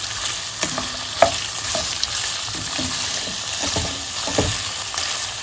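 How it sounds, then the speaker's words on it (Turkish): Meat browning in hot vegetable oil in a pot for a meat and dried bean stew, sizzling and frying with a steady crackle and occasional scrapes and clicks of stirring. "biraz böyle yağında kavrulsun"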